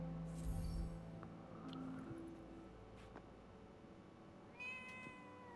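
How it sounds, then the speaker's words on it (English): A cat meows repeatedly in the video game Forspoken, a few short calls standing out over the game's ambient music and background sounds, with a brighter cluster of cries near the end. "Hey, that cat. Did it tail us here?"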